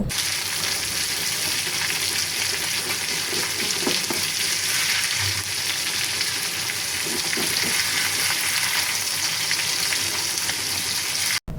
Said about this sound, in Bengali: এই তো মাছের এক সাইড হচ্ছে ভাজা হয়ে গেছে